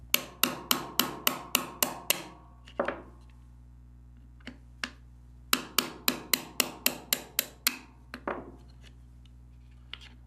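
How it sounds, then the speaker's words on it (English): A 1/8 inch roll pin punch hammered to drive trigger pins out of the block of an M&P Shield 45, two quick runs of sharp metallic taps, about seven or eight each, close and crisp with brief pauses between. "I'll take my 1/8 inch roll pin punch, put it on top of the pins, and drive them all the way down."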